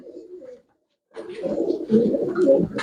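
Domestic pigeons offered for sale by a Punjabi pigeon fancier give a brief low coo, fall quiet, then break into fuller, continuous throaty cooing that builds in loudness near at hand.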